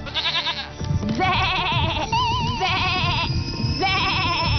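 In a jungle cartoon scene, a goat gives a string of loud, quavering bleats, one after another, layered over lively background music.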